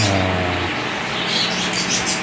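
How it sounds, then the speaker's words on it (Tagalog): Pet birds chirp at feeding time, a busy, close layer of high tweets running through the whole stretch over steady low hum and background noise, with no talking. "pangkain na naman yung mga ibon natin"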